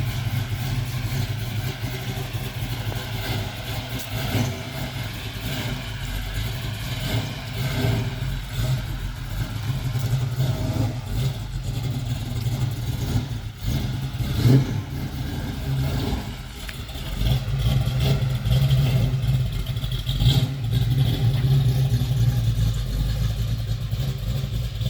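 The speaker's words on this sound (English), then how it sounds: "Listen to those motors. They sound good." A 1955 Chevrolet Bel Air hardtop with an LS3 engine running, a steady low rumble with mild rises in revs over about 25 seconds, moderately loud and unaccompanied by talk.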